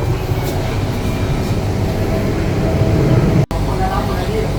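Steady low rumble and rattle inside a moving luxury-fitted Thai passenger train carriage, continuous and fairly loud, with a brief dropout near the end.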